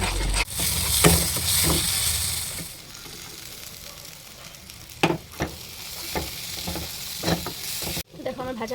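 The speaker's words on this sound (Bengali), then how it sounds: "মশলাটা কষিয়ে তারপর মাছগুলো দিয়ে দেবো" Dried fish with turmeric and salt spice paste sizzles and fries in a pan, with repeated scraping stirs of the spatula over a steady hiss and brief sharp clatters near the end.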